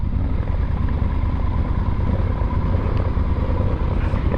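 Engine of a 2022 Yamaha Tenere 700 motorcycle while riding on a street, a steady, loud, continuous rumble with constant wind and road noise and no speech.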